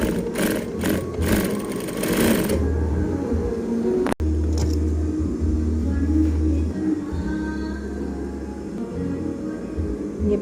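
Sewing machine stitching the back pocket of a pair of trousers, a steady mechanical whirr running in bursts of several seconds, close, with a sharp click partway through and a soft background hum.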